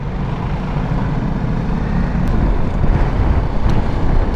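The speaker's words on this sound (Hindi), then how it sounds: "ट्रैक्टर वाला आ गया।" A tractor rumbles past on a road in bad weather, a loud, steady low engine drone mixed with wind buffeting the microphone, swelling slightly as it nears.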